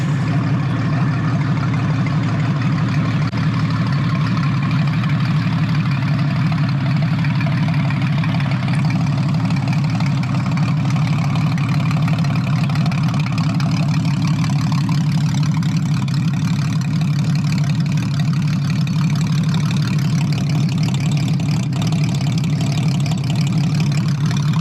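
Carbureted big-displacement muscle motorcycle engine, from a Triumph Rocket 3 or Honda Valkyrie, idling on a hot day without choke: a steady, loud, low rumbling idle that holds constant and close throughout, with no talking.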